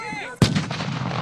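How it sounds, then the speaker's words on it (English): A simulated blast from a military training exercise hits sharply after a brief lead-in, then a long rumbling decay rolls on and fills the rest of the moment. "But for all the mock explosions, simulated attacks, and convincing effects"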